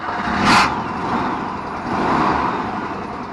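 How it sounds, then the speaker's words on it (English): A VW Type 3 Squareback's engine running just after starting, a steady mid-level rumble that swells twice, with a short hiss-like burst early on; no talking. "So let's turn on the car"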